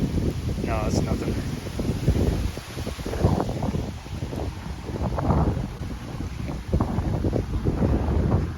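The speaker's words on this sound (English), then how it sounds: "It's so damn windy right now." Gusty wind buffets the microphone in heavy, low rumbles throughout, while a voice talks underneath the roar.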